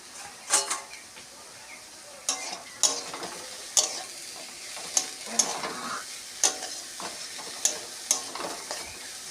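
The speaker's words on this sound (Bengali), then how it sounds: "শাকটা একটু ঢেকে ঢেকে ভাজতে হবে। ঢাকনাটা খুলে দিচ্ছি।" Pumpkin greens frying in a pan for a home-style dal, giving a steady close sizzle with repeated sharp stirring scrapes and taps at a loose rhythm.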